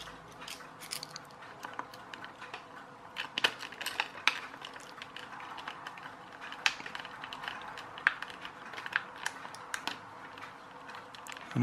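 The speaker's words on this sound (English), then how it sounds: "let's try and get some screws back in" Small screws being driven back into a plastic XQ Toys RC M1A2 Abrams tank model, heard as soft, close clicks and scratchy ticks in an irregular rhythm, fairly quiet, with no talking.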